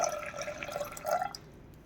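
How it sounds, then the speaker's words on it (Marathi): Water is poured from a cup into a pressure cooker holding soaked dal, a brief close trickle and splash that stops abruptly after about a second. "आता आपण हे कुकरला लावून घेऊया आणि पाच ते सहा शिट्ट्या करून घ्यायच्या आहेत थोडंसं पाणी टाकूया"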